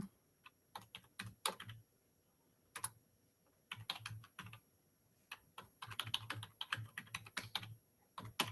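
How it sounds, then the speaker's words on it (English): Fingers type on a computer keyboard in quick, uneven bursts of crisp key clicks with short pauses between words, close and fairly quiet in an otherwise still room. "I am going to type it in now"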